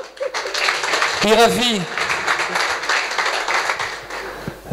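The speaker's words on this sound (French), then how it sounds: "on peut l'applaudir bien fort" An audience at an innovation program presentation applauds loudly and continuously, a dense wash of clapping with a presenter's voice calling out a name briefly over it.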